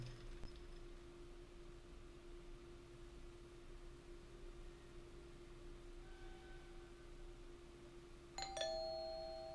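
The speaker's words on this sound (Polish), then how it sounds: "Ktoś dzwoni dzwonkiem." Doorbell ringing in the horror game Fears to Fathom: Home Alone, a bright chime near the end standing out over a steady low hum and faint room noise.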